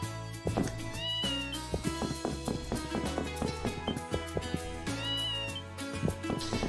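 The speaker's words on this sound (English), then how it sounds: "Falcom uses the same stock cat meow in all their games" A stock cat meow from the Falcom video game Ys Seven, a single clear mew and then a second one later, over busy game music with plucked notes and a steady bass.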